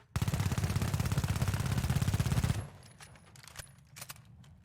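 M11 submachine gun in the video game The Finals firing one rapid, loud burst of closely spaced shots for about two and a half seconds, then cutting off into quiet game ambience with faint clicks.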